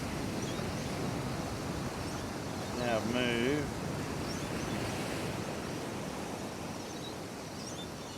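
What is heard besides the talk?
ocean waves crashing on rocks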